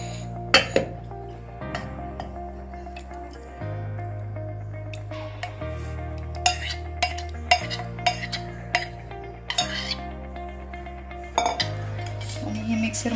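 Cooked tamarind and date chutney scraped into a mixer jar with a metal spoon, a run of sharp clinks and scrapes against the jar at uneven intervals, close and clear with no talking.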